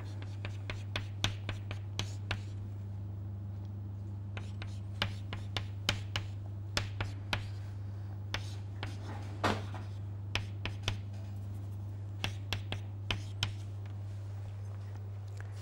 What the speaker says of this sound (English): Let me write this down for a moment.